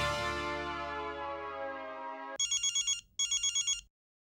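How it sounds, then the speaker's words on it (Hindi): A telephone rings in a sitcom household: a sustained tonal chime fades out, then two bursts of rapid electronic ring pulses follow, loud and close with no talking. "भैया का फोन आ रहा था"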